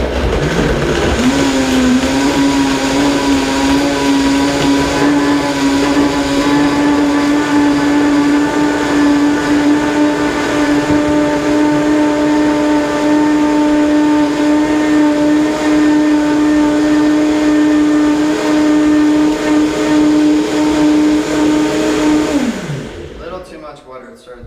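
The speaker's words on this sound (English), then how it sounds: "you want to always start your Vitamix on variable and 1 and then kick it up to high" A Vitamix blender whirs steadily on high, pulverizing fresh coconut meat, dates and vanilla, its motor holding a loud, even drone for over twenty seconds before spinning down and cutting off at the end.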